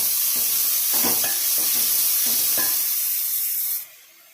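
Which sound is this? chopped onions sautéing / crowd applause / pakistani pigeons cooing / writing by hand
chopped onions sautéing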